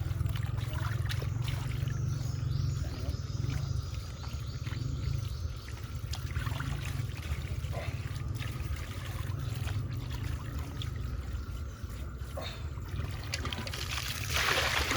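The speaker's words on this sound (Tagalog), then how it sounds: "Tignan nyo ang lakas ng tubig oh." Strong, steady rush of water pouring from a tap on a farm, splashing continuously at close range with a broad hiss and a low churning rumble throughout.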